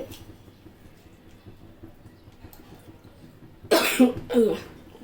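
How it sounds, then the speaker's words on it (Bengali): Two close, loud coughs from a person with a cold, one right after the other, breaking a quiet kitchen hush while beef biryani cooks. "ঠান্ডা লেগে গিয়েছে, কাশি আসতে।"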